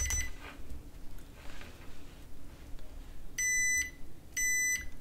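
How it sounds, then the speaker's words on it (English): A multimeter in continuity mode gives two short, sharp electronic beeps near the end, each lasting about half a second, over a quiet background. "I will just check it with my multimeter in continuity mode."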